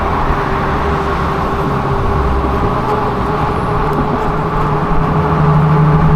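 A city bus rolling past in street traffic, a loud, steady engine rumble and road roar that swells slightly near the end, with no talking.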